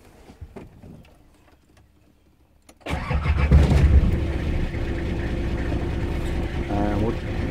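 After a quiet stretch with a few faint clicks, the diesel engine of a Nissan Patrol cranks and roars to life after the glow plug wait, then settles into a steady, rumbling idle.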